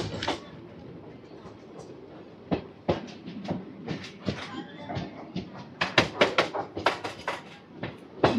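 Vijayawada–Guntur express train 07783 pulls away from Krishna Canal junction, with a steady rumble broken by sharp, irregular clacks and knocks that come faster and louder toward the end.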